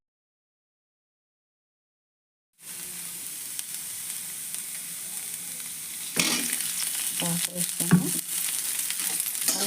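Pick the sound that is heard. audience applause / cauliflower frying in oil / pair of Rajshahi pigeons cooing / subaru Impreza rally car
cauliflower frying in oil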